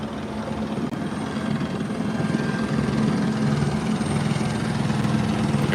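An LAPD police helicopter drones steadily overhead, its rotor chop and engine roar loud and continuous with no voices.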